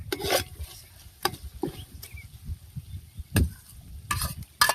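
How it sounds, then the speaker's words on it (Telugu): Ginger and garlic fry in a pan for a chicken gizzard dish, with a crackling sizzle punctuated by sharp spatula scrapes and stirring strokes at irregular intervals, close and moderately loud. "అల్లం వెల్లిగడ్డ వేసుకుందాం"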